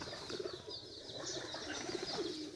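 Village pigeons coo softly and flutter their wings close by, a continuous low murmur of calls and flapping with no talk.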